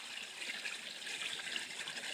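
Water flowing from a hose into a spring pond in early spring, a steady soft hiss and trickle, continuous and fairly close with no voices.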